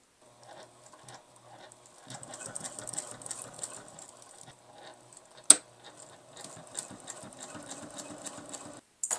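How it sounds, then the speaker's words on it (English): A sewing machine runs steadily as it stitches clear vinyl with nylon thread, its quiet rapid whirr continuing through short pauses, with one sharp click partway through. "I'm sewing with nylon thread."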